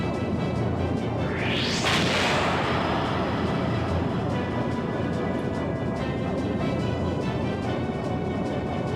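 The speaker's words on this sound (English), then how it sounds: "he's still firing that serpent cannon just about every turn." Serpent cannon firing during a turn-based airship battle in the video game Skies of Arcadia Legends: a loud whooshing sweep rises into a heavy booming blast, followed by a dense, sustained rumbling roar with game music underneath.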